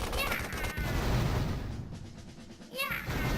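Gunfire in the Thrillville: Off the Rails video game, a dense run of rapid shots with a brief lull partway through, loud and close.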